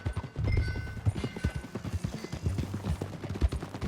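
Horse hooves gallop in Red Dead Redemption 2, a fast rhythmic clip-clop close and loud, running continuously over a low rumbling game soundscape.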